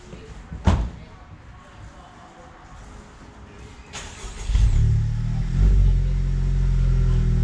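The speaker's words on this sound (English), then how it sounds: "the moment of truth, we're gonna do cold start" Car engine cold start: a door slam, a quiet pause with people talking, a brief cranking, then the engine catches and settles into a loud, steady, close idle.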